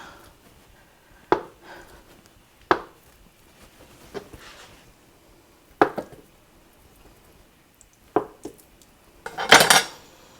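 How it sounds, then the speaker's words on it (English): A knife slicing tofu into cubes on a board, six or seven separate sharp knocks spaced a second or two apart, close and clean, ending in a louder rattling clatter. "Cut it into some cubes."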